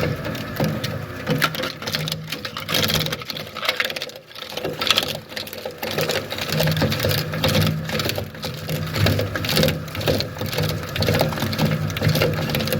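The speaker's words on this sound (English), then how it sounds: "the more you drop in, the more it will get shredded" A plastic shredder grinds and crushes dropped-in plastic pieces, producing a continuous loud crunching and clattering with irregular cracks and a steady motor drone underneath.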